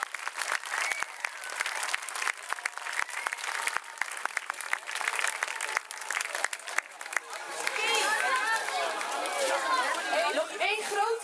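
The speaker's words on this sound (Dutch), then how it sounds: "Mag ik daar een extra groot applaus voor?" Loud, sustained applause from a large audience after a children's Lion King musical, dense clapping throughout with a burst of cheering and whistles near the end.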